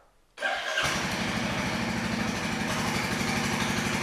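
A Royal Enfield Classic 350 motorcycle engine cranks and fires up after a quiet moment, then settles into a loud, steady, thumping single-cylinder idle close by.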